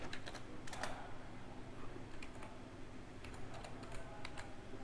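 Quiet, steady clicking of a computer keyboard as code is typed, with keystrokes in uneven bursts over a faint background hiss.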